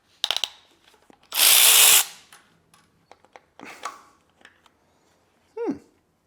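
A power tool whirs in a short, loud burst while camshafts are removed from a BMW S65 V8 engine from an E92 M3 with 103k miles, surrounded by scattered clicks, ratcheting and metallic handling noises in a quiet workshop.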